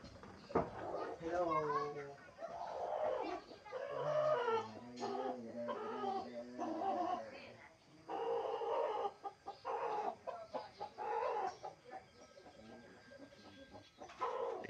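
Laying hens cluck and murmur close by, a steady flock chatter with occasional higher calls, while a person talks over them.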